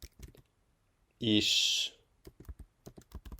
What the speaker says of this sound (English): I'm gonna try to write a sentence in German.